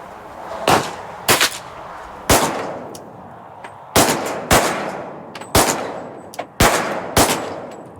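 A rifle fires a string of loud, close shots in irregular pairs and singles, each crack ringing out sharply with a brief echo between them.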